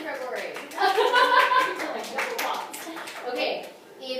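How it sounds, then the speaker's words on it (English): Audience applause at a team training session, a burst of hand clapping from a group that swells and fades over a few seconds, mixed with voices and chatter. "please give yourself a round of applause"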